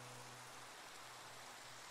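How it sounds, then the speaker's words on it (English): Rain in Minecraft makes a faint, even hiss of steady downpour, a soft uniform wash that continues without a break, with no one talking. "I was about to say it's raining outside."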